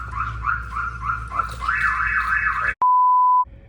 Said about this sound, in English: an aftermarket alarm system is so important on these cars because an alarm system will make noise